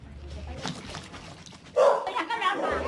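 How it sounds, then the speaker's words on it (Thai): A Thai Bangkaew dog barks fiercely at someone entering a flooded house, its sharp barks rising loud and close midway, with speech and background noise underneath. "ก้าวแรกที่ย่างเข้าสู่บ้าน สุนัขบางแก้วเห่ากระโชกรุนแรง"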